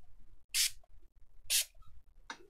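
Sepia spray paint sprayed onto a paper plate in three short hissing bursts, close and fairly quiet, evenly spaced with faint background rustle and no speech.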